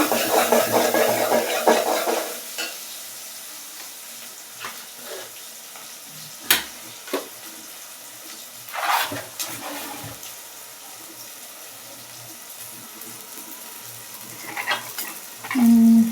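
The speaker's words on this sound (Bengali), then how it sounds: "ওই যে পেঁয়াজ ভাজতেছি।" Onions fry in a pan with a loud close sizzle at first, then the sound drops to a quieter simmer broken by occasional clinks and scraping stirs.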